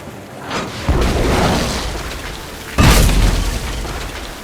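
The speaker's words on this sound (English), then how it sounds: "Then empty the cannons on him, me hearties!" Cannon fire from a pirate ship in an animated pirate adventure series: two loud booming blasts, the second heavier, each followed by a long rumbling roar, with no talking.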